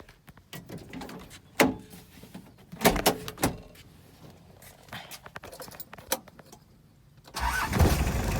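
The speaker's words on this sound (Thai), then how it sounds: "เดี๋ยว เรามาติดเครื่องกันเลยดีกว่า" An older Mitsubishi L200 pickup's engine is started with a few thumps and clunks before it catches and runs, a loud rough rumble rising in the last second.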